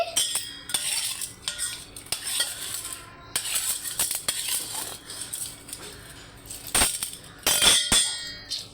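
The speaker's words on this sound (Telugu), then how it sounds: "ఇప్పుడు దాన్ని బ్రష్తో తోముతాను." Silver anklets are scrubbed with a brush in a metal dish, making uneven bursts of brushing and scraping broken by metallic clinks and clatter, close to the listener and with no talking.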